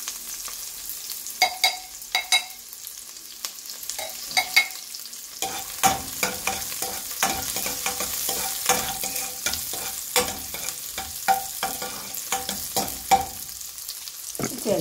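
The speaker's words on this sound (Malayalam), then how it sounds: "ചെറിയ ഉള്ളി ഒന്ന് മൂത്ത് വരട്ടെ." Small onions frying in hot oil for a mutton liver with black pepper dish: a steady close sizzle with frequent sharp clicks and scrapes of stirring spread throughout, no talk.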